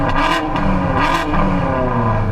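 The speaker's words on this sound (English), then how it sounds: "can you guys now rev up both your cars together" Car engines rev hard together at close range, a loud throaty roar with repeated surges over a steady rumbling idle.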